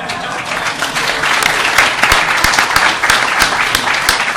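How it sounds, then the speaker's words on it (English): Audience applause after a talk at Rutgers: dense, continuous clapping from a crowd, fairly loud and steady throughout with individual sharp claps standing out. "The applause came."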